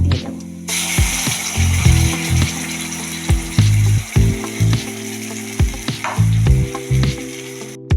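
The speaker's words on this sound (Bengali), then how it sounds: "এবার আমি যে পেস্টটা বানিয়েছিলাম এই পেস্টটা দিয়ে দেব।" Spice paste for palak paneer sizzles and fries in a pan, with repeated scraping and clattering of a spoon against the metal in irregular bursts, loud and close.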